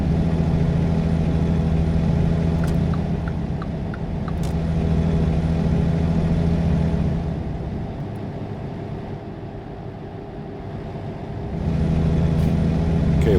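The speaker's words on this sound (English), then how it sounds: "Get to drive through downtown LA with a tractor trailer" A tractor-trailer truck rolls through downtown Los Angeles in American Truck Simulator, its steady low diesel engine drone humming continuously, easing down in the middle and swelling again near the end, with a couple of faint clicks.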